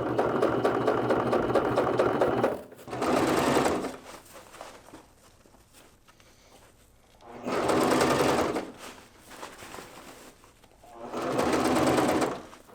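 A sewing machine stitches a seam on a fabric bag while attaching its roll top, running in four loud, steady bursts separated by quiet pauses while the work is lifted and turned.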